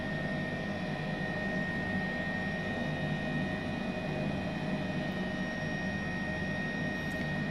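Steady whining engine and rotor drone of an H135 helicopter taking off in Microsoft Flight Simulator, a constant even tone with high-pitched turbine whine and no talk.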